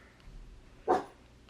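A single short dog bark, moderately close, stands out once against a quiet room background in a sewing space.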